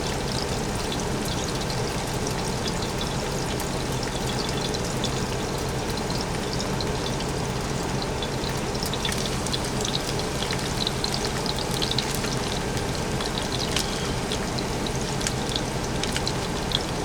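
Thin rainbow trout fillets frying in a pan at about 275 degrees, cooked on a truck: a dense, steady sizzle and crackle that runs evenly the whole time with no talking.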